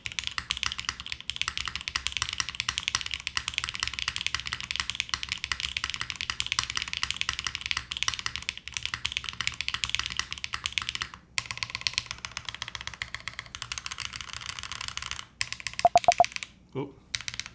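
Typing on a mechanical keyboard fitted with HMX switches, its spacebar mounting point left unscrewed, gives a dense run of crisp, close clacks for most of the stretch before thinning into a few scattered taps near the end.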